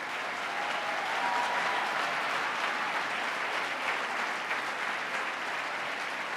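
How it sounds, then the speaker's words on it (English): A crowd at a 2018 State of the State address applauds steadily for over six seconds in a dense, even wash of clapping with no clear voices on top. "Give them a big round of applause."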